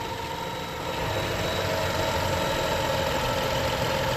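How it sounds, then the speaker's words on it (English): A car engine idles steadily right after a cold start, a smooth, even hum close by with a faint whine above and no rattles or variation in level. "cold startup sounds much better"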